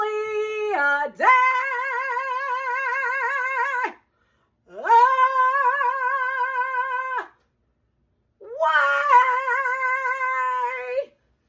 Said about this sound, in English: I got me a ginger cat.